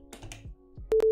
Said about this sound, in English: So if I take a look at the sine wave in here.